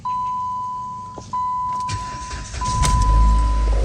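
A Dodge Avenger engine starting after a throttle body replacement, with a steady chime tone sounding, then the engine cranking and catching into a loud, low, steady idle close by.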